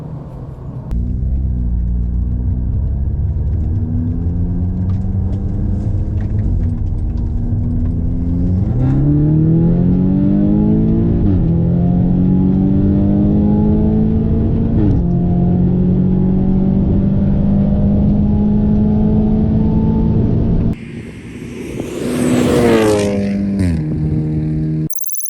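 An Audi S3 and an Infiniti Q50 Red Sport accelerate hard side by side in a roll race, a loud steady engine roar climbing through the revs with audible gear shifts, then a brief gap before a rising, screaming whine near the end.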